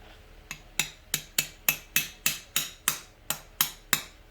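A light hammer taps a snap ring into place on a turbocharger during a 2007 GMC Sierra 2500HD Duramax turbo rebuild, with about a dozen sharp metallic taps in a steady rhythm, close and bright, each ringing briefly.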